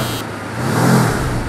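A car engine turns over and catches, swelling into a short, loud, low rumble as it fires up close by.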